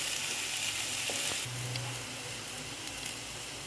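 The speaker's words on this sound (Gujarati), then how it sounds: "તેને ત્યાં સુધી આપણે હલાવશું, તેલમાં ગળવા દેવું" Chopped tomato and onion sizzle in hot oil, a loud, steady frying hiss close to the pan, with a few soft scrapes and knocks from stirring, no voices.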